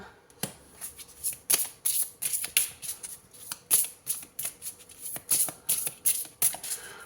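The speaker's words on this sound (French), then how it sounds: "Alors, je vais prendre également 3 cartes." Tarot cards handled and drawn at close range, with rapid, crisp flicks and riffles in uneven bursts, loud and continuous without any talking.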